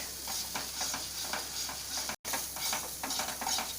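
Kadai paneer gravy with already-fried onion and tomato sizzles in a pan, a continuous close frying hiss with rhythmic scraping strokes of stirring and a brief break partway through, no voices.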